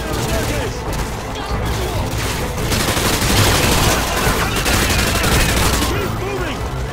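Sustained gunfire in the Modern Warfare 2 video game, with dense overlapping shots and bursts rolling on for several seconds at steady loudness, under a busy battle mix with voices.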